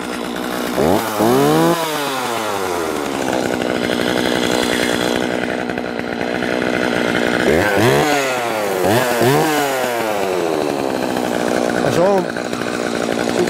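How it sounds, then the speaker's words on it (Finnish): A Jonsered 535 chainsaw cuts wood, its loud engine droning steadily close by and repeatedly revving up and down as it bites through the timber. "Tämä on kans hyvää sahaa tämä."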